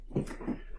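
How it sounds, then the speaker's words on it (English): A dog whimpering and fussing indoors, two short low yelps close by against a steady background hum. "That is my dog going crazy."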